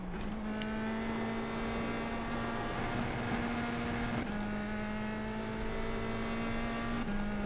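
USF2000 open-wheel race car engine on an out lap around Oulton Park in iRacing, a steady high-pitched drone held at near-constant revs with brief dips around upshifts, close and alone without voices.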